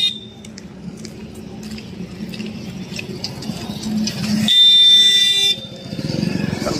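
Traffic on a busy main road in India rolls past with motorcycle engines droning and a long blaring horn, then more honks, all loud and close under a steady roar.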